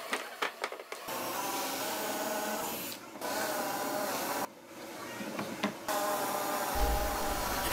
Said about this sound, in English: I'm going to cut that out with a jigsaw or whatever tool I have.